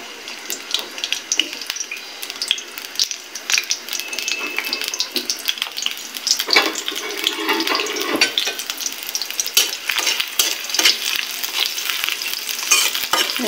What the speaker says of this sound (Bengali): নেড়ে চেড়ে মরিচ পেঁয়াজ রসুনগুলো একটু ভালো করে লালচে লালচে করতে হবে